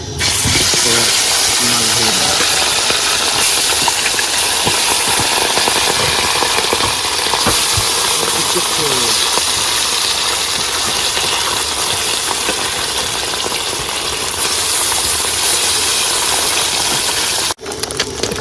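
Fish frying in hot oil in a home kitchen, a loud, dense, steady sizzle and crackle running throughout with no speech, ending with a brief drop near the end.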